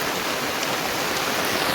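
First rain of the season pouring down with rainwater running everywhere outdoors, a close, loud, steady wash of hissing spray and flowing water.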